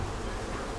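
A bee drinking salt from sweat on a person's skin hums in a brief, faint, steady buzz very close by.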